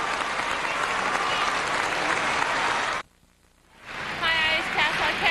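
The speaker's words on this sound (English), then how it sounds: "The crowd still buzzing." A figure skating arena crowd at the 1998 World Championships bursts into loud, sustained applause that cuts out abruptly, then swells back with a voice over it.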